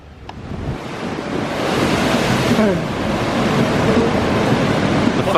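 Ocean surf washes over a flat rock ledge at Garth's Rock near Quobba, a steady loud roar of breaking water that builds and stays heavy, with wind buffeting the microphone.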